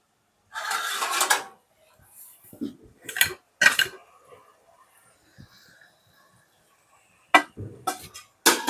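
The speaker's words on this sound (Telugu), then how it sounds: "మూత పెడతాను బాగా ఉల్లిపాయ ముక్కలు టమాటాలు అన్నీ మగ్గిపోయేలాగా మూత పెట్టుకుందాం" A lid set onto a cooking pot of onions and tomatoes, heard as several sharp metallic clanks and rattles in separate bursts with quiet gaps between.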